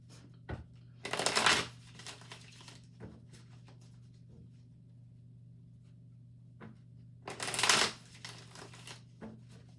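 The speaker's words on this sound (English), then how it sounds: "Let's give it a little shuffle." Tarot cards shuffled by hand in two crisp riffling bursts several seconds apart, heard up close over a low steady hum, with scattered small taps and card handling in between and no talking.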